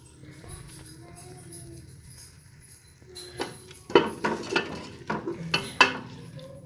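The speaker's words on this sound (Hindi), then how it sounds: "अब इसमें मैं डालने लगी हूँ दाल।" Dry yellow moong lentils tipped into a hot pot and stirred for roasting, giving a run of close, loud rattling bursts and scrapes after a quieter stretch of low background hum.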